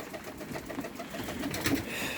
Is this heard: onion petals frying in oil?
no